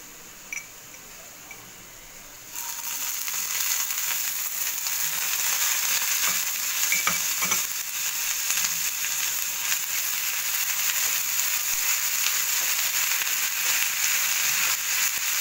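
Ginger garlic paste dropped into a pan of golden fried onions for prawn malai curry: quiet at first, then a sudden, steady, loud sizzle with scattered small pops.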